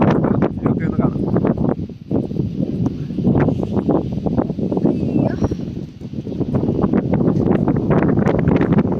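Strong, gusty wind batters the microphone at an exposed, cold, misty hilltop spot past Rajamala in Munnar, rushing and buffeting continuously for several seconds with no speech.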